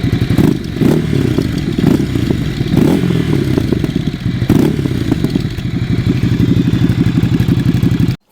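A 2024 Ducati Scrambler single-cylinder motorcycle engine revs loud and close, a continuous throbbing thumper note with rapid pulsing and a few throttle blips before cutting off abruptly at the end.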